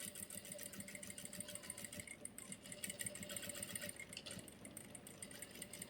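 A sewing machine runs steadily while stitching a pant pocket, a quiet, continuous fast mechanical whir with a buzzing rhythmic chatter, heard alone without talk.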